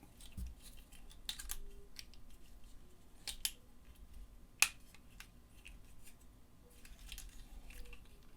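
Plastic parts of a Transformers MP-28 Hot Rodimus figure click and snap during transformation, a few sharp, faint clicks scattered over quiet handling, close up with no talk.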